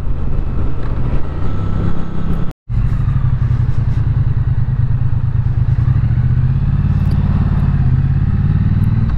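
A 2021 Triumph Bonneville T100 ridden at low speed through town, its engine burbling steadily and loudly close to the microphone, with wind rumble and one brief dropout in the sound.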